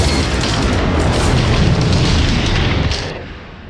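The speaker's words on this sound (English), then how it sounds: "Sharp metal hits and the sound of railroad cars coupling are added to the ship explosion." A massive, rumbling ship explosion effect roars at full loudness with heavy low-end and crackling debris, layered with sharp metal hits and railroad cars coupling, holding steady before tapering off near the end.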